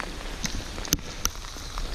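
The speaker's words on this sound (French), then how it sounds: "aujourd'hui c'est une journée de pluie, il pleut comme vache qui pisse" Heavy rain falls on a hiking day along the Camino de Santiago, a steady close hiss with a few sharper drop impacts on a nearby surface and no voices.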